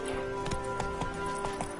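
Horse galloping in The Witcher 3 on PS5, quick rhythmic hoofbeats thudding close and steady under a constant tonal game ambience.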